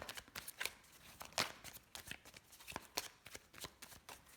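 Tarot cards cut and shuffled by hand, a quiet close run of rapid riffling flicks and soft slaps in an uneven rhythm, no talking.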